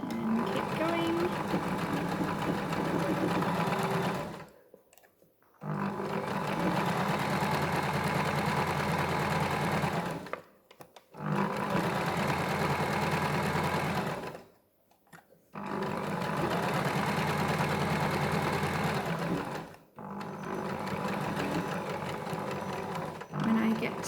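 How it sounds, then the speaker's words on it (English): A sewing machine stitching a fabric scrunchie runs in loud, steady whirring bursts of four to five seconds each, separated by four short pauses, close to the mic and with no talking. "I'm going to do some backwards stitching and then forwards again"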